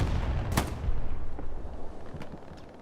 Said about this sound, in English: Explosion happens over here to our right.